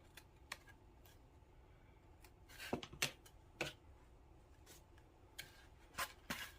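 Scissors trim the excess paper from the edge of a cut-out heart for a Valentine candy bouquet: a few crisp, separate snips, close and quiet, with pauses between cuts and no talking.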